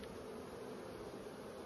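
Honey bees hum inside a crowded hive box in a big colony, a constant close, buzzing drone with no pauses.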